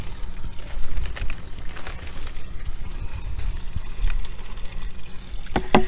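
Peat moss dumped into a garden sieve and shaken through its screen while mixing homemade potting soil, giving a steady granular rustle and patter with a few sharper bursts, close and moderately loud, with no talking.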